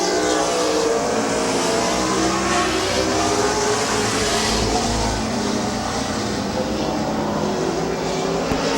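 Race cars lapping Midvale Speedway, a dense continuous roar of several engines at close range that stays steady and loud throughout.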